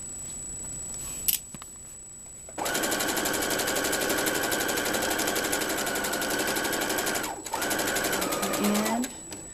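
A sewing machine stitching a zipper bag runs in a long, steady, fast whir after a brief pause and a click, stops for a moment, then starts again. A voice speaks briefly at the start.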